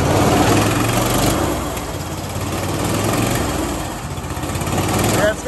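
A Honda GX390 engine on a homemade go-kart runs steadily nearby, its loud buzzing drone easing and then revving again, with people talking over it.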